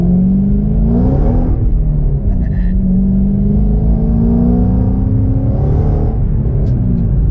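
A Ford Mustang GT500 V8 engine and exhaust rumble and rev steadily while driving, pitch rising and falling through gear changes, close and loud with no talking.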